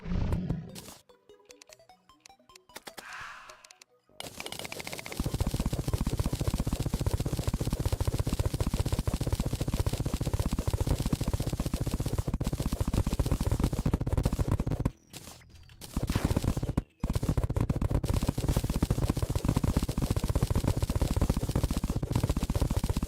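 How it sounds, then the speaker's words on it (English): A whole pillar of sand being destroyed in Terraria, heard as a loud, continuous grinding roar of rapid block-breaking noise that stops abruptly a few times before resuming. "I just hate the sound it makes when you're destroying a whole pillar of sand."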